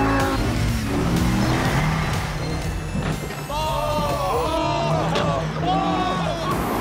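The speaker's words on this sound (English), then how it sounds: "Sounds like a V10 should." A V10-engined car, heard at close range, pulls hard with rising and falling revs and squealing tyres as the rear end steps out, while a voice talks over it.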